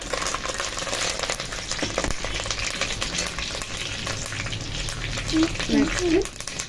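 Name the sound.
curry leaves frying in oil for Sai Baba prasadam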